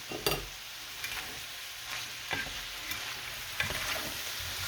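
Beef with mushroom, onion and broccoli sizzles in a hot pan while a utensil stirs and scrapes it in a loose, uneven rhythm of knocks, close up and with no voices.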